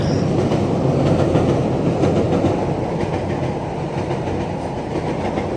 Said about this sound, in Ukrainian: Поїзд поїхав